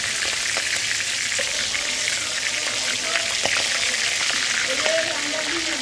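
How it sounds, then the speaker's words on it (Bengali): Onion slices frying into crisp beresta for pulao hiss in a hot pan with a loud, continuous sizzle throughout, while faint voices sit in the background. "ভাজা হচ্ছে"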